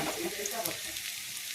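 Chopped garlic and ginger sizzle in hot oil in a pan, a steady close hiss with a brief voice in the background.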